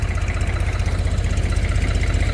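Engine of a Hero vehicle running, a loud, close, steady low throb with a rapid even knocking pulse that holds unchanged throughout, with no voices.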